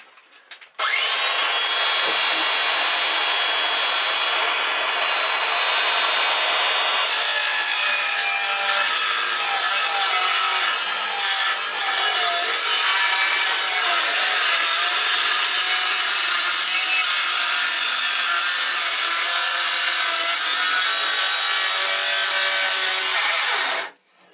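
A power saw cuts through wood at an angle in one long, loud, continuous rasping whine that holds steady for over twenty seconds before stopping abruptly.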